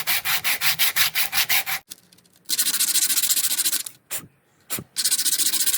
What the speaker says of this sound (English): you're going to want to start sanding the sides of the wooden dowel